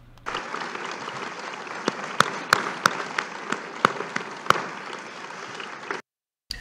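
Steady applause from a crowd at a French political event, dense clapping filling the room with a few sharper single claps standing out, then stopping abruptly near the end.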